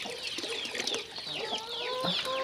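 Several chickens cluck and squawk close by in a steady, busy chorus while waiting for clean water, with short rising calls overlapping throughout.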